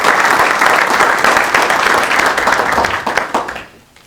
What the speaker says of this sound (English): So we need to give him a nice round of applause.